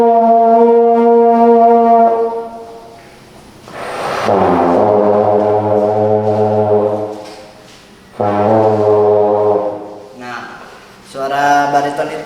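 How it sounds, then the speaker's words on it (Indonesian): A baritone horn from a marching band plays several sustained, low, open brass notes in separate phrases with short gaps between them, close and fairly loud. "Nah, itulah bariton."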